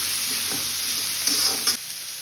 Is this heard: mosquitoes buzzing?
no